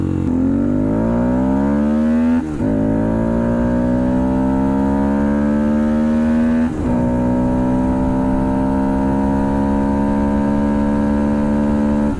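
Honda Super 125 Grom motorcycle with a bigger throttle body intake, its engine droning steadily while riding to a gas station, rising in pitch through two gear shifts, loud and close.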